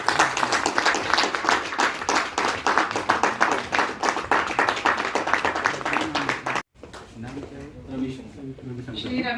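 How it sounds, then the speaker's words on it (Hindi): An audience at a national meeting claps for Jitesh in a steady burst of many hands for several seconds, then stops abruptly; afterward a person speaks briefly over faint room noise. "चलिए जितेश जी के लिए तालियां"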